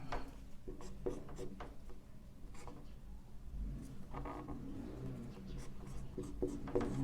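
Pen scratching while writing chemistry notes and formulas, close and quiet, in short strokes with brief pauses over a low background hum.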